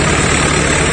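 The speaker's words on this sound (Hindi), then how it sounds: "ये ट्रैक्टर इधर चल रहा है और वो उधर चल रहा है भाई" Swaraj 855 and Sonalika DI 55 tractors run in a field towing a rotavator, weight and cultivator, giving a loud, close, steady low diesel rumble with no pauses.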